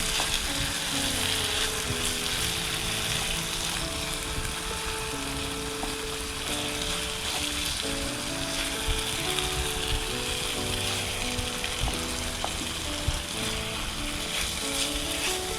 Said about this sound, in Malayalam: ഒരു 5 മിനിറ്റ് നേരം നമുക്ക് ഈ ഹൈ ഫ്ലെയിമിൽ ഒന്ന് ഇളക്കി കൊടുത്തോണ്ടിരിക്കണം.